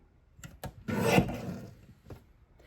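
A few short scraping strokes of a paper trimmer cutting cardstock for a card kit, close and quiet, with one longer drawn cut in the middle and a brief rub after.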